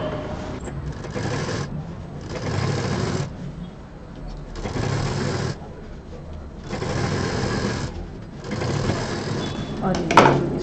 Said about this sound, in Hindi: बहुत आराम से इस तरह हमें मशीन चलानी है